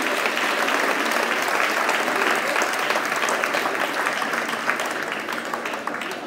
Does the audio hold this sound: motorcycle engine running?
no